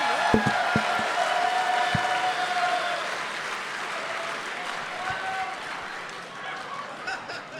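A comedy show audience applauds and cheers, a broad steady wash of clapping with a few sharp claps early on and scattered laughter mixed in.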